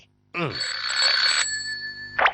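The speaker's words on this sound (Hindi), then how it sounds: "आपके लिए फोन है।" Telephone ringing close by, a loud electronic bell tone that sustains for about a second, then a sharper ring burst near the end, with no speech over it.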